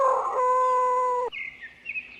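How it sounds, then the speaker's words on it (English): A rooster crows once in a single sustained, loud cock-a-doodle-doo, sung as a farm-animal call in a cartoon, followed by faint high bird chirps. "Rooster."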